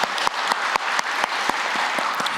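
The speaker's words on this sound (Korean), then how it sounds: "우리 임마누엘 찬양대에게 우리 감사의 박수 드리도록 하겠습니다" A church congregation at a dawn prayer service claps in thanks for the choir. The claps fall in a steady, evenly spaced rhythm, close and fairly loud, with a bright hall wash between beats.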